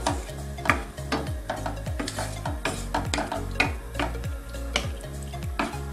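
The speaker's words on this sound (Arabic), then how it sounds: "نديرو الحوت البيض هبرة، غادي نخلطو مزيان." White fish meat for fish pastilla is mixed by hand in a bowl, giving repeated soft wet stirring and squelching strokes. Light utensil clinks come at a steady working rhythm, close by and with no talk.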